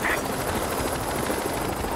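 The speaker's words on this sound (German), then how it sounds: "Oh, der Heli ist da." A helicopter in Splinter Cell: Conviction thrums with a continuous rotor chop and engine roar, fairly loud and steady for the short stretch, with faint voices barely under it.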